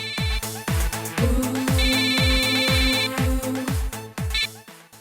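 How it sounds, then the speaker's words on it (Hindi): A mobile phone rings with an incoming call, a loud repeating electronic ringtone melody with a regular pulsing rhythm and layered beeping tones, heard alone. "माँ का कॉल।"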